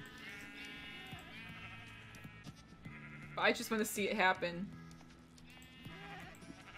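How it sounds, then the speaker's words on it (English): Sheep in the Minecraft game bleat a few times in a short burst midway, fairly clear, while a person talks over the game sounds before and after. "I want to watch them like start smacking sheep around."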